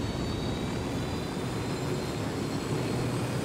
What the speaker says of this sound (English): Helicopter! Helicopter! Fly!